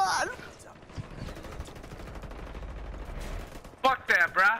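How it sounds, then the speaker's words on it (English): Rapid bursts of gunfire from a firefight in the video game Ghost Recon Wildlands, rattling steadily for several seconds, then louder, sharper shots near the end. "I'm shooting at you now."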